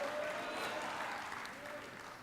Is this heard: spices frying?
no